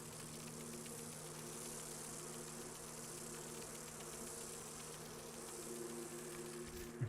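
A bee swarm buzzes during an attack in Dragon Age Inquisition, a faint, steady droning hum held evenly under quiet game ambience and ending in a small thump.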